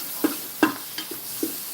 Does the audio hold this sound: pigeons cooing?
no